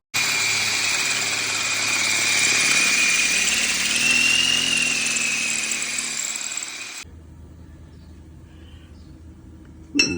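A power drill whines loudly and steadily as it bores out a broken wheel stud, then stops, leaving quiet background hum and a brief clunk at the end.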